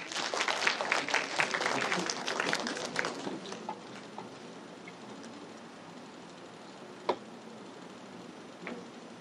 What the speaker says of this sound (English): Let us give a round of applause for Miss Dagmar Uy.